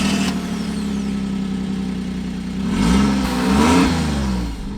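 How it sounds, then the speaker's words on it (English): A car engine catches and settles into a steady near idle, then rises in two revving swells before easing back, loud and close with no talking over it. "we're gonna go ahead and start it up and get some AC on"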